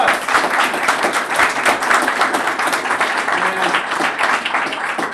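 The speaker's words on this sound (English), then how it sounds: "Give him a round of applause." Conference audience at a festival opening keynote breaks into sustained, dense applause, loud and close throughout with a steady wash of clapping and faint crowd murmur.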